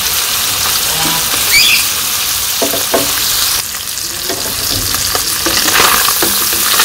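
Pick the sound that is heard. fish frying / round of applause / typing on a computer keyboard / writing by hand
fish frying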